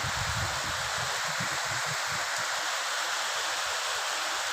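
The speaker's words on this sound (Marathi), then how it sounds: "आता जास्त यायला लागली पाऊस" Steady rain falls on waterlogged farm fields, heard from under a shed as an even broadband wash that stays constant and fairly loud throughout, with no voices.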